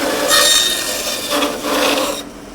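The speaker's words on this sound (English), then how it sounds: "That hollow noise in the middle of that cut was the end of the split" A lathe tool cutting a split, wormy wooden bowl blank: a steady rasping scrape over the spinning wood that swells and changes tone partway through the cut, close and loud, with no talk.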